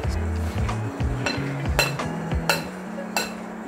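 Spoon scraping and clinking against a bowl while mixing potato salad with cheese whiz and all-purpose cream, steady irregular clatter and knocks up close, with background music playing.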